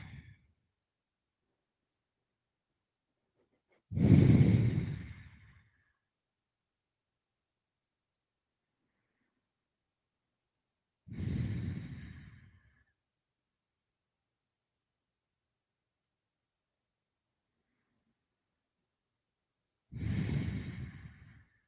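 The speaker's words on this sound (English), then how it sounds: "let's just begin to bring our attention back to our breathing." Slow, deep breaths during a yoga session, three long exhalations spaced several seconds apart in near silence, soft and close with no talking.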